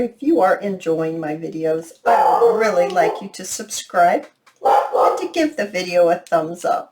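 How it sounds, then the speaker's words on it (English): Dogs bark and yip in short bursts around and beneath someone talking steadily, in a home setting. "Sorry about the dogs."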